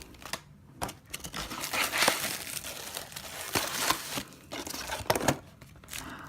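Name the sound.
opening Bolt Action M3 Grant model kit packaging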